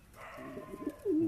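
A Madras breed pigeon coos close by, a short series of low throaty pulses rising into one longer, louder held coo at the end, with no talking.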